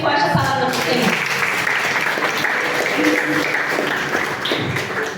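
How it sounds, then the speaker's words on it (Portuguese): A church congregation applauds loudly, a dense crackle of many hands clapping that runs steadily for several seconds. Scattered voices are mixed in. "aplauda bem forte a palavra do Senhor"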